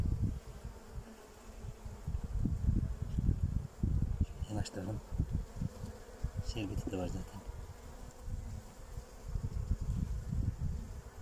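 A weak colony of honey bees hums softly at a hive in late winter, a faint, steady buzz with someone speaking quietly over it and brief clinks in between.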